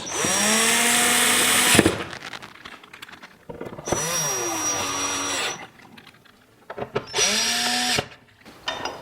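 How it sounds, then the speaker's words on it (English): A power driver drives wall mounting screws into the back of a Vizio TV during a repair, three separate bursts of high-pitched whirring, each a couple of seconds long, close and loud, with quiet handling noise between them. "we're going to install the wall mounting screws"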